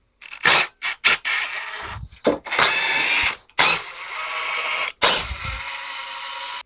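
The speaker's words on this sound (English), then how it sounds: "Now we'll take off the valve cover." Metal wrench ratcheting and clanking while 10 mm valve cover bolts come off a generator engine, loud close bursts broken by short pauses, with no talking.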